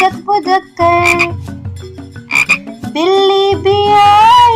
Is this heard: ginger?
no